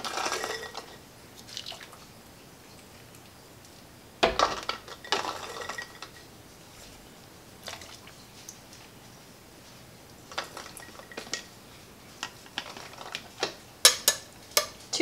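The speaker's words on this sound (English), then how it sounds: "So we're gonna ladle in our solids." Black bean soup solids ladled into canning jars for pressure canning, heard as scattered clinks of a ladle against glass and soft wet plops, with louder bursts of clatter toward the end and no talk.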